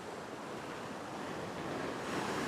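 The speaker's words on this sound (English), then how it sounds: "Just watching the waves as always." Ocean waves wash steadily against a flat rock fishing shelf, a constant broad roar of surf mixed with wind, with no voices.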